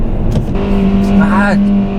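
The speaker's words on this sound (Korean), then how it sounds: "6500쯤 잉 할 때 잠깐씩 그 엔진음이 딱 끊기면서 정말 변속을 하는 것 같은 거" Kia K3 engine revving hard in first gear on a test drive, a steady loud drone that climbs in pitch toward a shift point, heard from inside the car with a voice talking over it.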